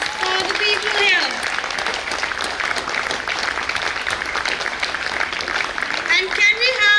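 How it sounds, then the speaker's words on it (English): An audience at an inter-school vocabulary contest gives a steady round of applause that fills the room, with a voice and some squeaky tones heard over the clapping. "Can we have a big round of applause for the people here?"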